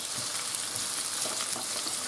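Bite-sized boneless, skinless chicken thigh pieces fry in a pan over browned onion for a rice-and-chicken dinner, giving a steady, close, loud sizzle with small crackles throughout and no talking.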